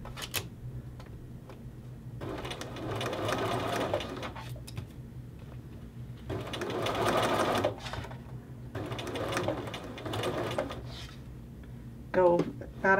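A sewing machine stitches a men's shirt collar to its facing in several close bursts, quiet stretches between runs, with a person talking softly in the pauses.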